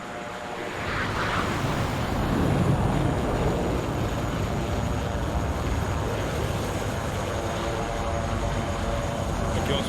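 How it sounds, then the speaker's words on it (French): A helicopter arrives in the video game ARMA 3, its steady engine and rotor roar building in and holding loud and continuous for about ten seconds, with faint voices in the background. "Ah bah tiens, l'hélicoptère arrive."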